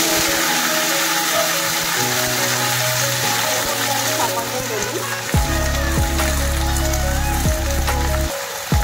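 Okra (bhindi) fries in a pan of hot oil for dry masala bhendi, with a steady close sizzle that swells louder about two-thirds of the way through and a few utensil knocks over a low hum.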